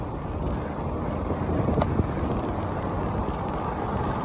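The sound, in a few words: wind noise on microphone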